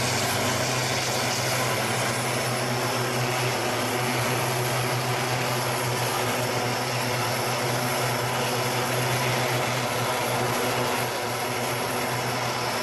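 Aircraft leaving the Royal International Air Tattoo at RAF Fairford, a steady loud propeller and engine drone that fills the whole stretch without a break and with no voices over it.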